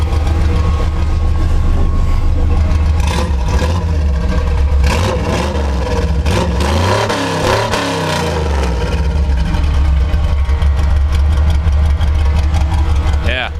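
A Chevrolet C10 truck engine runs at idle nearby with a steady low rumble. The engine briefly rises and falls once in revs midway through, and the running engine is heard on its own throughout.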